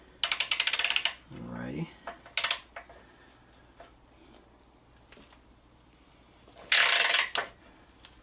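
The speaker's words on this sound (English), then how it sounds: "this is a Harbor Freight 1/2" ratchet and wrench that I love" Harbor Freight 1/2-inch ratchet clicking as it loosens the front wheel bolt of a Yamaha V-Star 1300 motorcycle: bursts of rapid pawl clicks, close and sharp, separated by pauses, with a brief spoken word in between.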